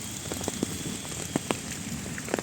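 Light rain patters softly during outdoor fishing, with scattered drops striking a nearby surface over a faint, steady hiss.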